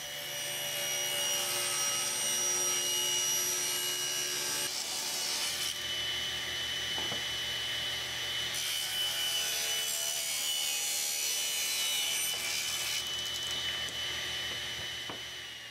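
Saw blade cutting through a wooden inlay block held firmly by hand, a steady loud rasping whine running throughout with slight shifts in pitch as the cut progresses.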